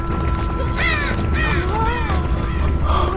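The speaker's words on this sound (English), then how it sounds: "Crow, fuck you, you piece of shit, Crow." Crow in the game Dead by Daylight cawing several times in quick succession, loud and close over a low background rumble.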